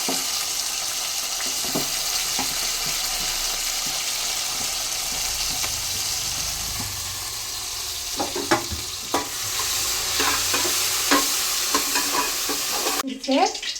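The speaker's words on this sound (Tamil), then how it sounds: "நெக்ஸ்ட் வந்து க்ரீன் சில்லி ஆட் பண்ணுறோம். லைட்டாக ஒரு ஃப்ரை." Green chilli and tomato fry and sizzle steadily in a pan for chicken biryani, with a lingering hiss and irregular clinks and scrapes of stirring that grow busier toward the end; no one speaks.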